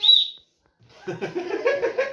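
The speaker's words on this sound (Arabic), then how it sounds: "ايوه عامل زي صوت العصافير" A toy whistle shaped like a birdhouse gives one brief, shrill chirp like a bird, followed by a pause and then people talking in a room.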